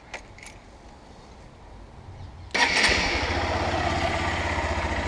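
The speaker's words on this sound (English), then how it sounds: "Let the engine run for a little bit." Honda CBF 125 motorcycle engine after an oil change: a few quiet clicks, then the engine fires at about two and a half seconds and settles into a loud, steady, close putter of idle.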